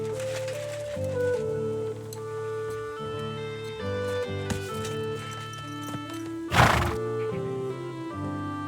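A horse in Kingdom Come: Deliverance II gives a loud, shrill whinny partway through, heard over a steady musical backdrop of sustained notes.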